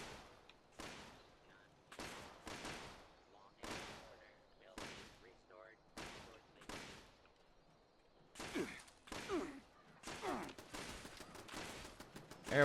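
Turret gunfire in Fallout 76, played on Xbox, heard as repeated sharp bursts of shots roughly every second, each burst short and punchy, with a denser volley near the end and quieter gaps between.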